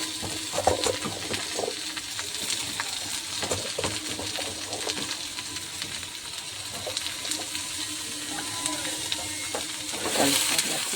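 Onion and capsicum frying in a home kitchen pan, giving a steady low sizzle with scattered crackles and stirring scrapes throughout, fairly close and moderate in level, with no talking.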